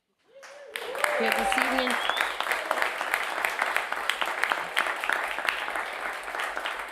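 Applause for a performer at a live radio music show, starting right after a voice and swelling into dense, sustained clapping with scattered sharp claps that stays loud throughout.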